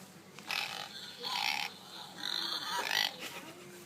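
A person mimics a pig's oinking for a farm animal noises challenge, giving four nasal grunting bursts in a steady rhythm, close and moderately loud.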